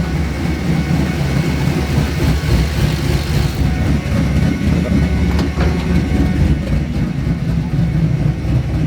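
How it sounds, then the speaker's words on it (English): The fuel pump of a Duramax square body truck running low on fuel gives a steady, loud droning hum that holds unchanged throughout, with no talking over it. "That's how loud the fuel pump is right now."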